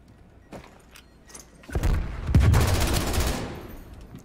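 Video game gunfire starts as a few faint, isolated shots, then breaks into a loud, dense burst of rapid fire lasting nearly two seconds before it cuts off.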